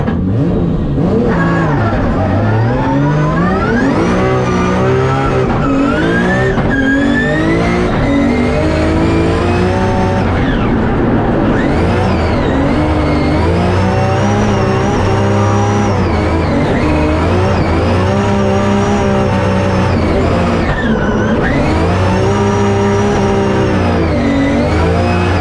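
Drift car on runs at Igora Drive, engine revving hard with rising and falling pitch sweeps, steady and loud throughout, tire squeal mixed in as it slides.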